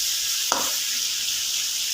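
Chicken sizzles steadily in a hot frying pan for a Bandi gosht dish made with okra, with one brief clatter partway through.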